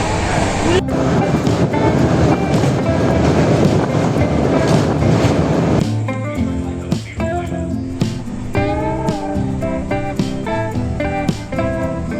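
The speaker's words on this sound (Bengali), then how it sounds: "আমরা অ্যাট লাস্ট বিশাখাপত্তনম স্টেশনে পৌঁছে গেছি ট্রেনটা দু ঘন্টা লেট করলো" A train pulls into Visakhapatnam station, its steady rumble and wagon clatter running throughout, with voices and busy station noise over it that thins out halfway through.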